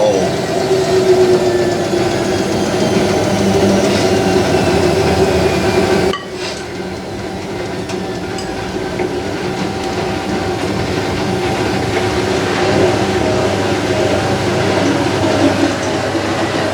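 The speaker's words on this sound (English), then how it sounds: "Here goes Miele, it's a final spin." A Miele W562 washing machine on its final spin makes a loud, steady mechanical rumble and whir up close, with rattling and a sudden drop in level partway through.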